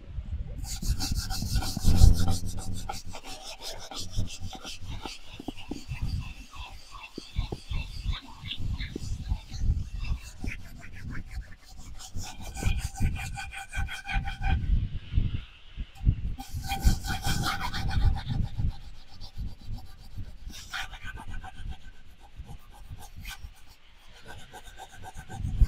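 Cooking pot scrubbed with sand and soap outdoors in an African village, rough rhythmic gritty rubbing strokes repeated for a long stretch, close and fairly loud, with brief pauses and faint background sounds.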